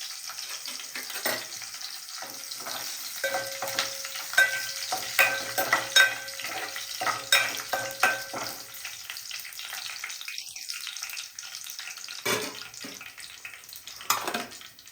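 Dried red chillies and curry leaves frying in oil for a country chicken gravy: a crackling sizzle with bursts of popping and a few utensil clinks, easing into quieter stretches.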